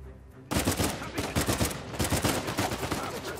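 Gunfire from a sniper fight in the action video game Uncharted 4: A Thief's End, a dense, loud stream of rapid shots that starts suddenly after a quieter moment.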